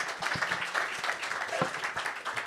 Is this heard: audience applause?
yes